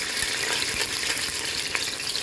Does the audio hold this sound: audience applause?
no